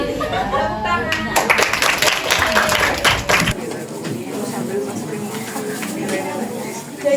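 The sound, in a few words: schoolchildren clapping hands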